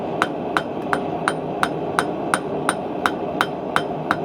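Steady, evenly spaced hammer blows ring out on metal candle holder legs as they are tapered at the ends, about a dozen sharp metallic strikes over a constant background hum, with no talking.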